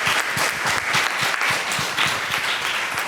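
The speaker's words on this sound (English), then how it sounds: "Thank you all to the panel again. Another round of applause." An audience at a panel discussion on community-based senior services breaks into continuous applause, with individual claps distinctly audible in a steady, moderately loud patter that runs throughout.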